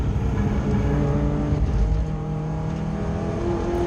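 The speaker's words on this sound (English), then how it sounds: "the engine's producing good power" A race car engine in a Ford Puma Clubsport Trophy race at Oulton Park drones steadily at high power, with layered harmonic tones holding throughout and a dense rumbling low end.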